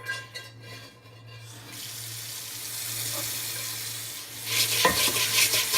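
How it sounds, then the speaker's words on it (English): A brush and scrubber work over a cast iron skillet with burnt-on egg, producing a rough, hissy scrubbing that swells louder toward the end, over a low steady hum, with no talking. "place the scrubber on the end of your brush and scrub"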